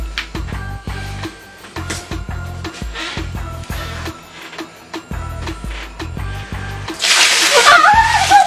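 Cold water splashed onto a sleeping woman as a prank: a sudden loud splash at the end after a stretch of quiet ticking and shuffling.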